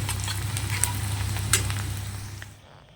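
Chopped onions sizzle and fry in oil in a home kitchen pan, a steady crackling hiss with occasional sharper pops, fading out toward the end.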